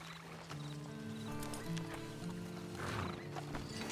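A horse's hooves clip-clop with a whinny, up close over a steady tonal background, with no speech.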